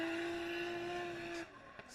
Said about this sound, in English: There's a lot of clutch kicks coming from that car as well.